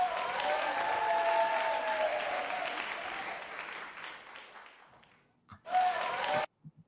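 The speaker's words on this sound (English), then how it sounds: "I forgot that I had uploaded this applause thing" A canned applause sound effect plays on a podcast, broad crowd clapping with some cheering that fades out, then a short second burst cuts in and stops abruptly.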